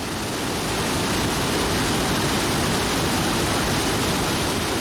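Steady, full-bodied rush of water pouring from a weir beside canal-side houses, a constant broadband roar with no breaks, close and fairly loud throughout.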